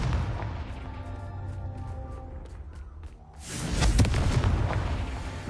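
A Confringo fire spell from the video game Hogwarts Legacy bursts in a loud, close explosive blast about two-thirds through, following a stretch of quieter game ambience.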